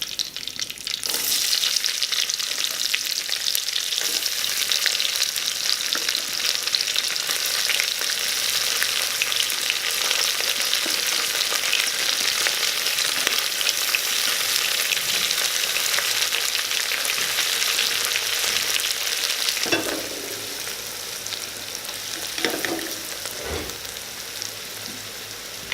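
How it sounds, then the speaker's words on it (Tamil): Onions fry in a pan for Chettinad mutton biryani, a steady loud sizzle and crackle running unbroken for most of the stretch before easing off slightly near the end, with no talking. "இப்போ வெங்காயம் நல்லா பொன்னிறமாக வதங்கிடுச்சு."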